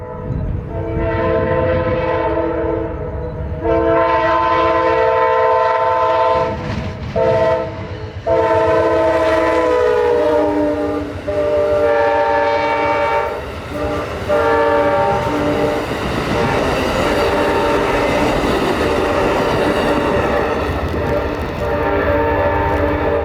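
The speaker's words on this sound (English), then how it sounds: "First one being Amtrak number 92, the northbound Silver Star from Miami, Florida to New York City." Amtrak 92, the northbound Silver Star passenger train, passes loud and near at night with a long blaring multi-note horn over the roar and rumble of the cars.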